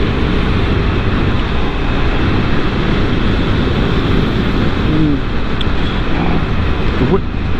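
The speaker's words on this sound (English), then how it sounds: "The wind noise is noticeably loud, much louder than the Rocket that I sometimes ride" Heavy, steady wind roar buffeting the rider on an Indian FTR 1200 S motorcycle in sport mode, loud and unbroken throughout, with engine drone mixed beneath.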